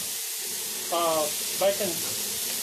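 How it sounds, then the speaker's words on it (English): Corn sizzles and crackles steadily in hot bacon grease on a grill, a continuous frying hiss, with a couple of brief voice sounds over it. "Let that all get chopped up and get to start frying up in the bacon grease"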